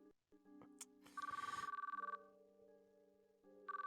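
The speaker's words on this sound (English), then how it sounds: "As I listened to the phone ring, a strange sort of urgency started to well up within me." A telephone rings unanswered in the ChäoS;Child video game, sounding as bursts of trilling electronic rings that repeat over a soft sustained musical backdrop, with a brief sharp effect near the start.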